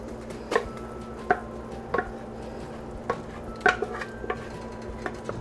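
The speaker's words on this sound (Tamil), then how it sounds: "இப்போ இதை நல்லா கலந்து விட்டுருங்க." Rice being stirred into thick jaggery syrup for sweet pongal, with a few scattered knocks and scrapes of a spoon against the pot over a low steady background hum.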